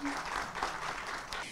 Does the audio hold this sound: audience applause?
yes